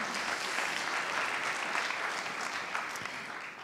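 Sustained applause fills a hall at the Paris Hôtel de Ville during a business pitch event, a continuous, fairly distant wash of many hands clapping that fades slightly at the end.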